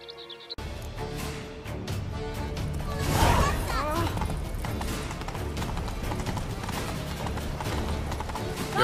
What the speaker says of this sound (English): Ready our horses!